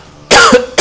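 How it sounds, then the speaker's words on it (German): A person coughs while playing Paper Mario: two sharp, loud, close coughs. "Oh, ich musste husten."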